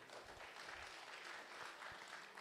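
Steady applause from the audience at an economic symposium, a dense, even wash of clapping that holds throughout without pause.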